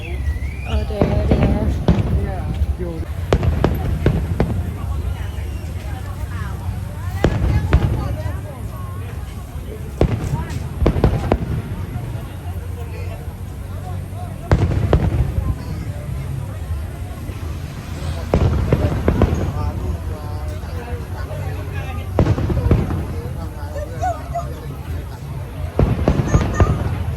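A fireworks display on the first night of a 2022 fireworks event in Pattaya: repeated loud booming bursts with crackling tails come every few seconds over a steady crowd murmur.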